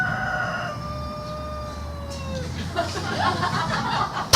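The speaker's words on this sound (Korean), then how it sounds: "닭이 반응하잖아요. 옳다고." A chicken crows with a long drawn-out call, followed by clucking and rustling, heard at moderate distance inside a church service setting with a low room hum behind it.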